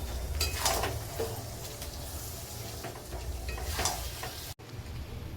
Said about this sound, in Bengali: কষাই এটা এখন একটু বেশি টাইম ধরেই কষাবো